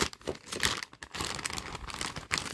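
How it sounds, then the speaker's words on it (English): Tape being peeled off a cheap doll package, giving close, crinkly tearing and crackling bursts in quick uneven pulls, with no talking. "Let's get the tape off."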